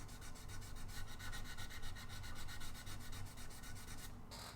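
A wooden guitar body is sanded by hand in steady back-and-forth strokes, a continuous close, rough rubbing scratch that holds its rhythm throughout before stopping abruptly near the end.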